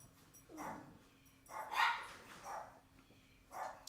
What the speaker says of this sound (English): These dogs are like, yo, Dad, let me out.